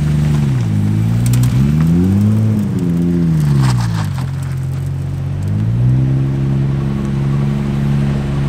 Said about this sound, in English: So we're gonna move the car a bit.